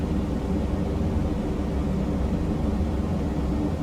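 Simulated Junkers Ju 52 trimotor in Microsoft Flight Simulator on approach to land on a short runway, a steady loud engine and wind drone with no break and no talk.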